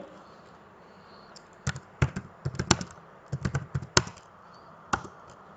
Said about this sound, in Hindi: देखिए अब यहाँ पे आप कुछ भी टाइप कर सकते हैं